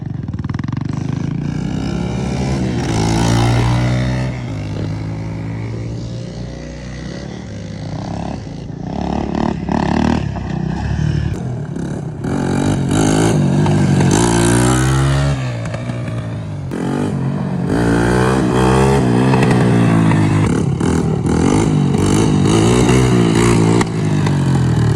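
Two three-wheelers, a 200X and a 225DX, race with loud revving engines that rise and fall through the whole stretch, with clattering and scraping mixed in and no talk.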